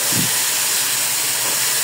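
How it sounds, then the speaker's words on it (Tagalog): Tofu frying in a smoky pan, a steady broadband sizzle and hiss that holds evenly throughout, close and fairly loud, with a brief low bubbling burst near the start and no talk. "So, prito tayo ng tokwa"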